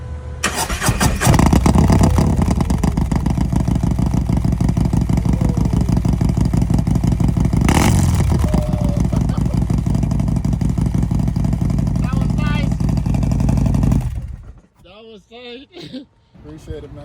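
A Harley-Davidson CVO motorcycle with an aftermarket pipe roars loudly and steadily for about fourteen seconds before cutting off, leaving quiet ambience.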